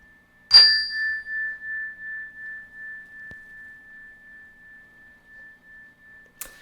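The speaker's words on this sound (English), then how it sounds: "Like, ring the bell." A single small bell is struck once, its clear high tone ringing out and slowly fading with a gentle pulsing shimmer over several seconds.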